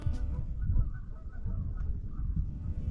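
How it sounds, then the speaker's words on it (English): A couple of geese honk repeatedly in a calm, slightly windy outdoor spot in Howley, Newfoundland, in winter. The honks are moderately loud, irregular and mixed with low rumble from the wind, and no one speaks. "Getting interrupted by a couple geese."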